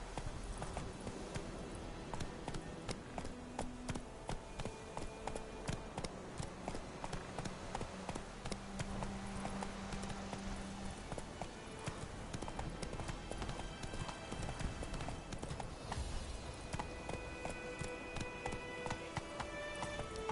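Roach the horse gallops in The Witcher 3, a steady fast clip-clop of hooves held up through twenty seconds, close and even over quiet game ambience.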